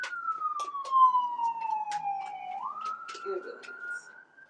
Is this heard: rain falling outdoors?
no